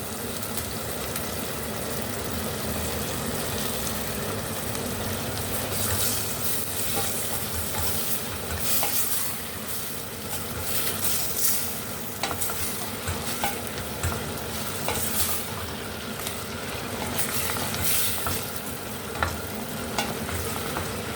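A handful of coriander frying and being stirred in sesame oil, a steady close sizzle with scraping stir strokes running throughout, no voices.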